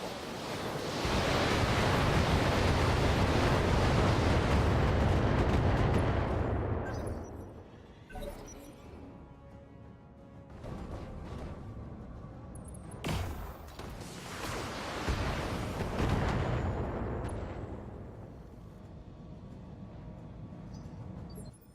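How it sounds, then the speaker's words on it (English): A mech fires a full weapons salvo in Battletech: a long, heavy roaring blast that slowly fades, followed by quieter sharp hits and a second roaring surge that also dies away. "Firing a full salvo."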